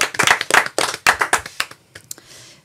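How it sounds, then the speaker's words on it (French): Sparse, irregular hand claps from a small studio audience on a French quiz show, loud and close at first, then thinning out and trailing away. "Bien, bravo, on applaudit."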